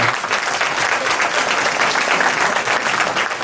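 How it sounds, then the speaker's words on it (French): Sustained applause from an audience at a town New Year's greetings ceremony in Pussay, a steady dense clapping that holds at an even level throughout. "Voilà, on peut l'applaudir."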